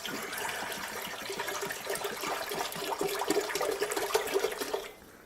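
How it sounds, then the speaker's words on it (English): Steady rushing water pours continuously into a pot for about five seconds, growing slightly louder before cutting off abruptly near the end. "Now we want to take about half of our water"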